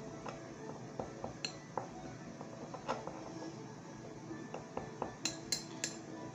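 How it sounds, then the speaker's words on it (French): A spoon stirs Tex-Mex spices in a bowl for a meat marinade, producing quiet, irregular metallic clinks and scrapes, with a quick cluster of sharper taps near the end. "On mélange."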